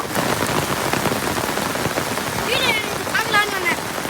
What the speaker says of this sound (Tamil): எவ்வளோ மழை, இன்னும் ஒரு 4 நாள் பெஞ்சால் போதும் இந்த மழை